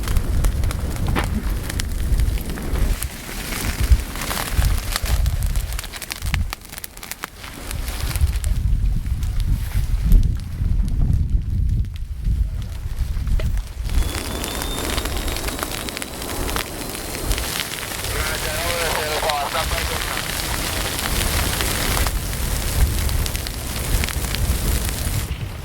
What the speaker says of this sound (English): we're going to put a little ignition test on this side to see how the fire is behaving